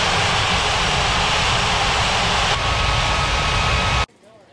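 An airliner lands in a mobile air traffic control game set at Ngurah Rai Bali International, giving a loud, steady jet engine roar with a faint high whine that cuts off abruptly near the end, leaving a quiet hum.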